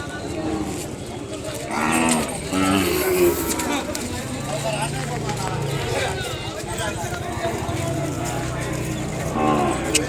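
An Ongole bull calf at the Sunday Kodad cattle market lows among a crowd, with several loud moos standing out near the start and end over constant nearby chatter and market bustle.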